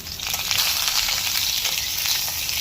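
Large-cut onions sizzle loudly and evenly in a hot pan of oil while cooking for a village-style fish curry, a dense frying hiss that runs unbroken throughout.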